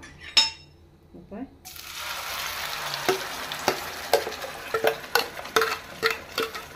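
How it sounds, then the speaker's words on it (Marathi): Marinated chicken pieces tipped into hot oil in a kadai, a soft clatter first, then a steady loud sizzle and frying hiss with repeated sharp scraping and stirring clicks from a utensil against the pan, no talking. "ते आतां घालता हांव कढाईन. तेल तापलेलें आसा."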